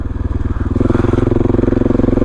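Motorcycle working through thick mud on a mountain trail as night approaches, its engine a steady close chugging drone with a brief rise in revs, loud and continuous with no talk.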